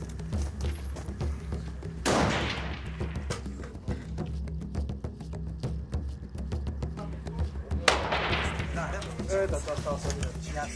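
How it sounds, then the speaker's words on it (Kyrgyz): Rifles firing at a sniper shooting competition in Osh region, Kyrgyzstan: two sharp, booming shots about six seconds apart, each trailing off, over steady outdoor background noise and faint voices. "Атышуу жүрүп жатат."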